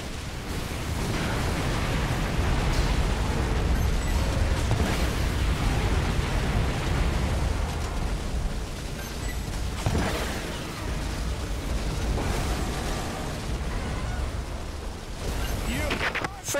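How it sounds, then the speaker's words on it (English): Airstrike explosions in Earth Defense Force 4.1 roar as a dense, continuous wall of rumbling blasts and debris noise, loud and close, with brief sharper bursts swelling through the barrage. "Airstrikes incoming!"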